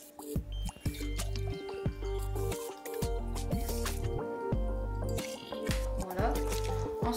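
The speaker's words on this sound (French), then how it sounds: "Nous allons prendre de l'eau et nous allons le verser dedans" Water poured into an empty jar for a Christmas glitter-jar craft, with a soft trickling and dripping that runs on and off beneath a talking voice and background music.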